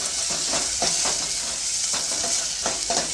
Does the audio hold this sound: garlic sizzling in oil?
yes